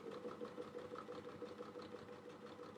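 A sewing machine stitches fabric for a mug rug in a steady, faint mechanical hum with a soft rhythmic knock throughout, and no voice.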